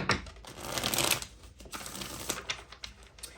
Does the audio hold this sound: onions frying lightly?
no